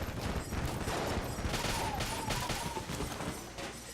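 Steady stream of gunfire from a weapon in the roguelike shooter Enter the Gungeon, rapid repeated shots layered with game effects and a faint tonal chirp, fairly loud and continuous.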